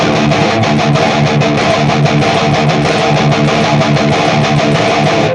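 Loud distorted electric guitar chugs a steady, driving metal rhythm on the offbeat, with rapid repeated strikes and sustained ringing chords, played alone without talking.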